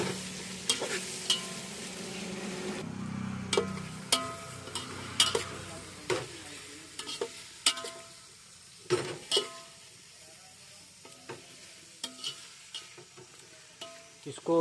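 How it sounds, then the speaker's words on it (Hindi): Chopped onions frying in oil for a potato and chicken curry, stirred with a utensil against the pan: steady sizzle with repeated sharp scraping and clinking strokes, close and alone with no talk. "अब डालते हैं प्याज"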